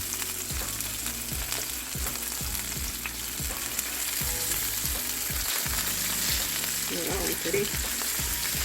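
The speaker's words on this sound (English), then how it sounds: "turn these down to like a medium high so that that skin can render out its fat and slowly start to crisp up" Chicken skin sizzles and crisps steadily in a hot pan on medium-high heat, a continuous close frying hiss with rhythmic clicks and low knocks, while someone briefly speaks partway through.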